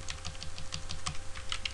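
Quick, light keystrokes on a computer keyboard entering a name, a rapid, slightly uneven patter of soft clicks, close and fairly quiet, over a faint electrical hum with no voices.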